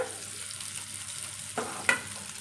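Onion pieces fry in hot oil in a kadai with a steady low sizzle, broken by a couple of brief clinks from stirring, close and fairly quiet.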